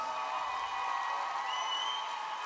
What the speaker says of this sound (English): one final round of applause for these two fighters